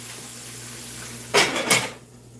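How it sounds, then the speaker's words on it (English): A pot lid clatters down onto a pot in two quick metallic knocks, close and fairly loud, over a faint steady sizzle. "We're gonna cover it because we want this to steam."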